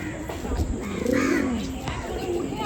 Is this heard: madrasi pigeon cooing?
yes